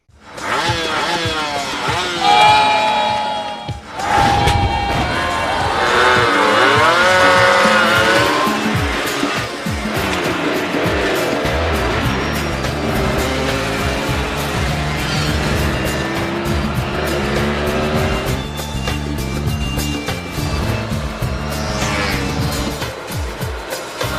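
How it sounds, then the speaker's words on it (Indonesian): Two-stroke Kawasaki Leo motorcycles racing in a 1999 street-racing film scene, with loud high-pitched revving, rising whines and squealing tires that settle into a continuous engine roar. "Dengan menggunakan motor 2 tak Kawasaki Leo dengan susah payah dan penuh rintangan, akhirnya Sky berhasil menjadi juara."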